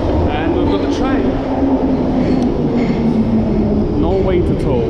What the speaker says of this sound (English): And we've got the train.